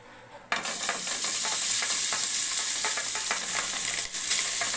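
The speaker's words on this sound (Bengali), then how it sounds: "প্রথমে ঘি দিয়ে দিলাম বেশি করে দিলাম ঘিটা এবার এখানে আমি কিছুটা রাইস দিয়ে দেবো" Rice hitting hot ghee in a pan for chicken biryani sets off a sudden loud, hissing sizzle that holds steady and close, with faint stirring scrapes inside it and nobody talking.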